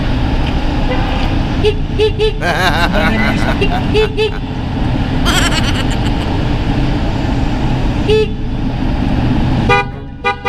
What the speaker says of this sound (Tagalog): Ito yung sa Pia horn ito